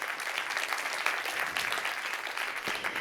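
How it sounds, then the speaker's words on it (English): Audience applause fills the room steadily, a dense wash of clapping hands from a seated crowd, continuous and fairly loud for the whole stretch with no voices over it. "Everybody, round of applause."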